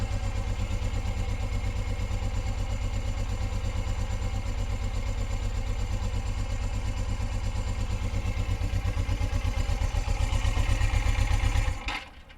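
A 1980 Suzuki GS450L motorcycle engine runs steadily at idle, a close, even, throbbing putter with a low pulsing rhythm that holds for about twelve seconds before cutting off abruptly at the end.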